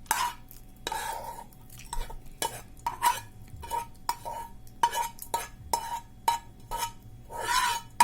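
Spiced tempering poured from a small pan into seasoned buttermilk for majjiga charu, with repeated close metallic scrapes and clinks of a spoon against the pan and vessel, plus a light stirring swish, with no talking.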